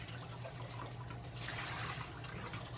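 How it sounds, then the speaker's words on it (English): Running water rinses out a film developing cylinder while TMax 400 film is processed, a steady close rush and splash with no pauses. "Rinse the cylinder out."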